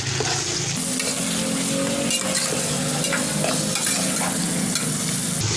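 About a kilo of chicken fries in ghee with a loud, constant sizzle. Close stirring and scraping in the pan run under it, and no voices are heard.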